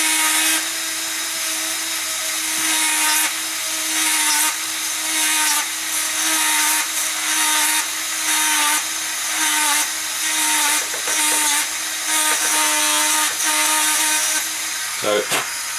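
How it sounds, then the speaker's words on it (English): A power drill whines in repeated bursts, speeding up and slowing down as it bores holes, fairly close and loud. "so I'm going to drill from the inside."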